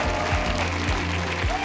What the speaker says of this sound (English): Everybody in here, once again, give it up for Trabota and Radu